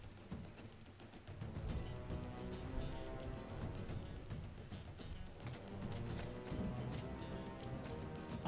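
Steady rain falls in the open-world video game Xenoblade Chronicles X, a dense, continuous wash that stays fairly even and fills the scene with no talking over it.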